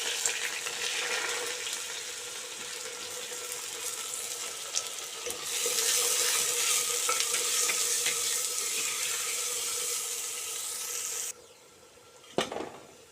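Urad dal, chana dal and chopped onion fry in a hot pan for a Tamil vatha kuzhambu, a steady loud sizzle with scraping stirs that cuts off near the end, followed by a single sharp clatter.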